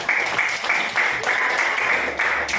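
Brisk rhythmic clapping from a classroom of students applauding a classmate, close and steady in repeated pulses for a few seconds.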